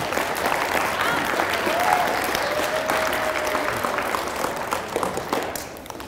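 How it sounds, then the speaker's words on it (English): Audience applause at a TEDx-style talk, steady clapping from a sizable crowd filling the room for several seconds before tapering slightly at the end. "Thanks, you can clap."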